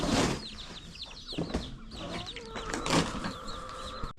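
Chickens cluck and call in a chicken house on a small poultry farm in Africa, several birds overlapping with brief wing flaps, close and fairly loud throughout.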